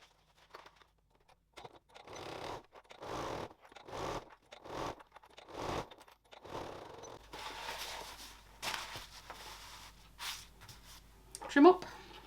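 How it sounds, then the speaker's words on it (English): A sewing machine stitches a pouch lining seam in short, rhythmic bursts of rapid mechanical chatter, then gives way to a softer steady hum with scattered handling noises. "So let's stitch that."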